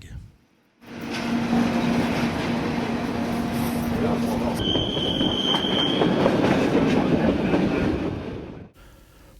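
A Swiss train runs on the rails near Visp, a loud steady rumble of wheels with brief squeals and a whistle-like tone, lasting several seconds before cutting off.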